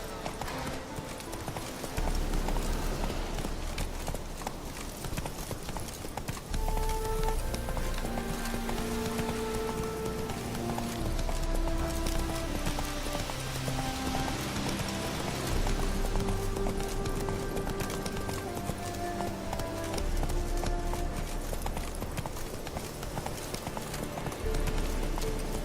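Roach the horse galloping in The Witcher 3: steady rhythmic hoofbeats, close and continuous, under a bed of orchestral game music.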